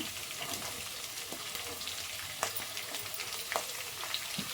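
Finely chopped onion sizzles in hot oil with curry leaves for an avarekalu upma, a steady broadband hiss broken by occasional sharp spoon taps against the pan, close and fairly loud with no voices.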